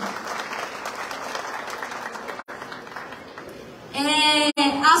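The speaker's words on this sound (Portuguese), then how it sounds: "Uma salva de palmas aos nossos amigos da Secretaria do Esporte," A crowd applauds at a coffee queen pageant event, steady clapping for several seconds that is briefly cut off twice, ending under a loud voice speaking over a sound system.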